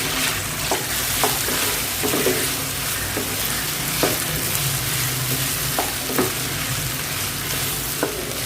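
Yam pieces fry in a pan with oil, a constant loud sizzle broken by scraping clinks and knocks as they are stirred and turned at irregular moments, close and with no talking.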